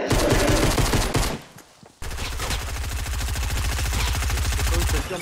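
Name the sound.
gunfire sounds from a video game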